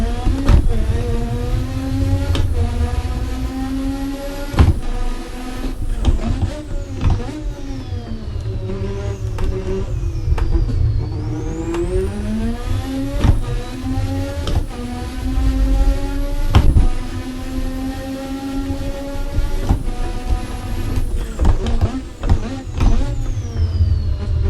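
A car in the Assetto Corsa racing game drops through a string of downshifts, the engine note rising sharply with each throttle blip and falling again, loud and repeated without a break.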